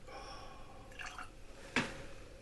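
Water drips into a glass of whisky: a faint splash or two and then one clearer drop, close and quiet against a soft background hiss.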